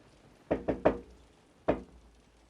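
Knuckles rap on a door in a dark house: three quick knocks in a tight, uneven burst, a short pause, then one more single knock. The knocks are close and moderately loud, with nothing else in the background.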